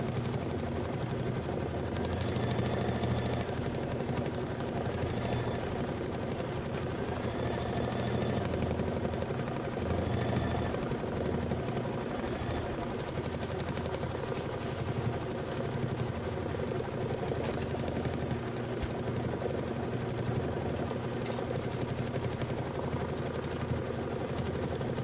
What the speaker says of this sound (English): I'm actually getting ready to stitch out the headless horseman